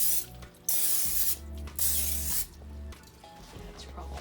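Several short hissing bursts of aerosol cooking spray onto an egg mold, with brief pauses between them and faint clicks of the nozzle, close up.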